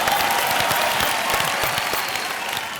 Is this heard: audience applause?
yes